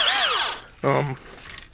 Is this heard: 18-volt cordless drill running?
yes